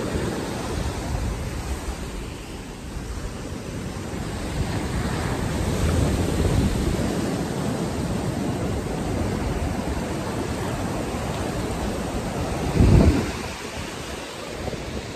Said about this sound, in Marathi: लाटा बघ